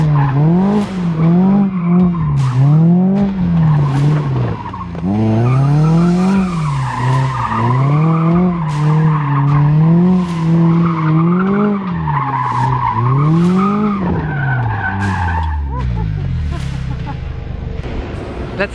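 A Mazda Miata ND with a Cusco 2-way limited-slip differential and sway bars spins one-hand drift donuts, its engine revving in repeated rising and falling surges over continuous loud tire squeal, close by.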